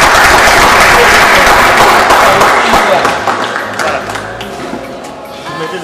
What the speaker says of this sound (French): Et applaudir.